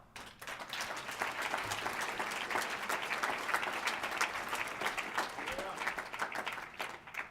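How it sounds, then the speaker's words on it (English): Steady, full applause from a large crowd at the 2015 MLK Diversity Awards ceremony, continuing evenly for several seconds before easing off at the end. "that is something that we need to applaud again"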